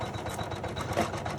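Janome embroidery machine running while stitching a Christmas bells ornament in the hoop, a steady rapid mechanical whirring and clatter close by.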